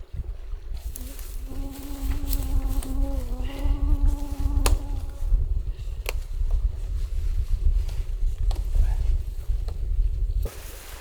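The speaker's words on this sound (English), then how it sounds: "There is a lot of mosquitoes." A thin, high whining buzz of mosquitoes on an island hovers for a few seconds, steady and wavering, over loud rumbling background noise and faint clicks.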